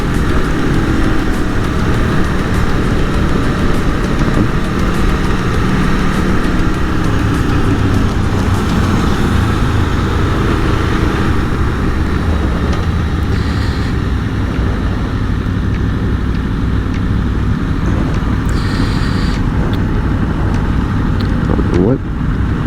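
An Aprilia Tuono V4 motorcycle engine roars steadily while riding, with throttle swells and a downshift in first gear at low RPM, loud and close under wind rush, as a rider talks over it.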